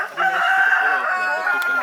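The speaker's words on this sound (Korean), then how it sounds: "이게 진짜 닭싸움이네요" Roosters at a cockfight in Bali crow and cluck loudly nearby, one long strained crow dominating the stretch with fainter birds and a little background chatter around it.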